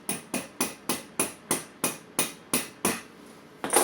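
Hammer striking a bolt to drive out the spindle of a Suzuki Intruder Volusia VL800 motorcycle on a workshop lift: about a dozen sharp metallic blows in a steady rhythm, close and loud, with no voices.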